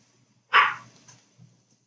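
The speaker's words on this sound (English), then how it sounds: "And my dog doesn't like the noise." A pet dog gives a single sharp bark indoors during a mesh flower crafting session, followed by a softer, lower woof a moment later; no one speaks.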